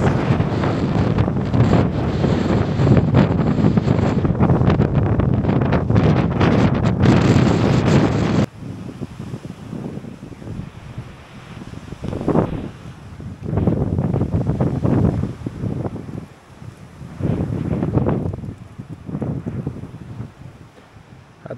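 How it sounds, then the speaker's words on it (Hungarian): Strong wind buffets an outdoor microphone, a loud roaring rush for the first several seconds, then easing into gusty waves that swell and fade again, with no voices. "Feltámadt a szél, szinte alig bírok itt állni."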